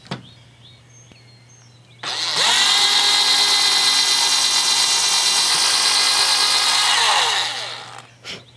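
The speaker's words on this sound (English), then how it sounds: "I'm going to just take and drill two holes in the top of my plaque." Power drill boring two pilot holes into the top of a carved wooden house number plaque, a loud steady whine that starts abruptly, holds for about five seconds and winds down, with quieter handling sounds before and after.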